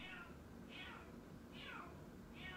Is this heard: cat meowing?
yes